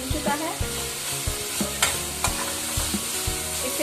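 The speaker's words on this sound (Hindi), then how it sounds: "तो ये मेरा मसाला काफी अच्छे से भून चुका है" Spice masala fries in oil in a pan as a spoon stirs it, giving a continuous close sizzle broken by regular scraping strokes and knocks against the pan. No voices are heard.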